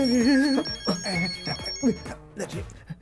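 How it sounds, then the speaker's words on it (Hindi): A phone ringtone plays, a repeating melodic electronic tone pattern at moderate loudness, with no talking over it. "कौन फोन कर रहा है बे?"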